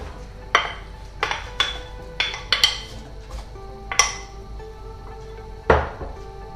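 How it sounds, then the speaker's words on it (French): Several sharp clinks and clatters of diced apples dropping into a metal saucepan, in quick uneven bursts with a louder final clatter. "Je vais verser les dés de pommes."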